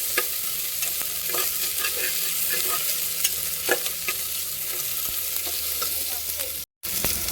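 Turmeric powder frying in a pan with steady sizzling and occasional scrapes of stirring, continuous and close, with a brief dropout near the end.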